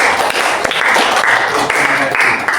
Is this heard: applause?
yes